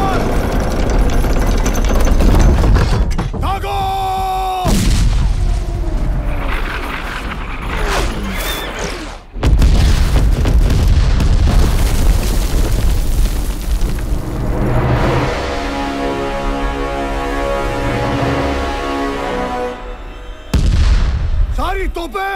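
Cannons fire on a historical battlefield in a film of the Battle of Panipat, with several heavy booms bursting at intervals through a dense mix of voices and dramatic soundtrack.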